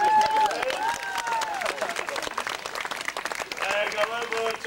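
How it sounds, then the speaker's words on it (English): Applause from an audience at a show in Hawaii, many hands clapping continuously at moderate volume with cheering and voices mixed in. "Another round of applause."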